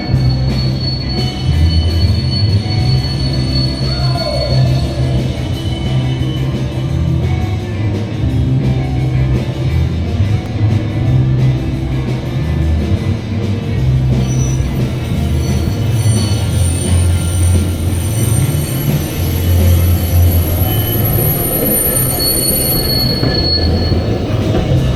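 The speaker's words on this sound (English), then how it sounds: "We got train coming." A train passing on a Tokyo street-side line, loud and close, with continuous rumbling wheels and high metallic squeals riding over the clatter for the whole stretch.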